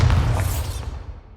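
Bombarda spell explosion in the video game Hogwarts Legacy: a single deep boom with a bright crackling burst that decays away over about a second, heard alone.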